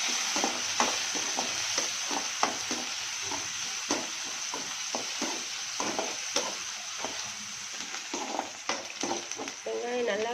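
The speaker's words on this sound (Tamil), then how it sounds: "எண்ணெய் ஊற்றிட்டு கடுகு போடணும். கடுகு பொரிச்சதுக்கப்புறம் வெங்காயம்" Mustard seeds and onion fry in hot oil in a home-style cabbage coconut kulambu, giving a continuous bright sizzle dotted with popping crackles and stirring scrapes, close and steady, with no talking.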